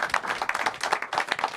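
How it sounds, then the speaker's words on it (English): Dense applause from a TV studio audience, steady clapping with many overlapping hands for the full stretch, fairly loud and close. "Give him a big round of applause, everybody"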